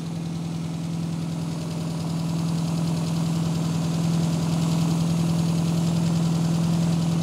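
A classic Mini A-Series engine idles fast and steady during a carburetor tune-up, a close, continuous throbbing hum that grows slightly louder over the seconds, with no talking.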